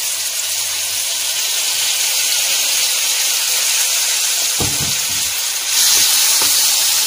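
Chopped tomatoes go into a hot pan and sizzle with a loud, steady hiss, and a few soft knocks and a brief surge near the end.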